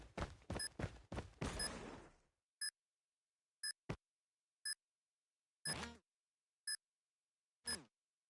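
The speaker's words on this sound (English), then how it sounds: "Bomb has been planted." A planted bomb in Call of Duty Mobile: sharp, regularly spaced electronic beeps ring out in near-silence, following a short flurry of louder clicks and noises at the start.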